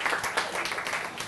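Students in a Form 4 additional mathematics classroom applauding a group, a brief burst of dense, fairly loud clapping from many hands.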